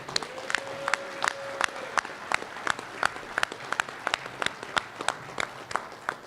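Audience at a men's breakfast meeting clapping in a room, a steady burst of hand claps with distinct sharp individual claps standing out, fairly close and moderately loud, tapering off toward the end.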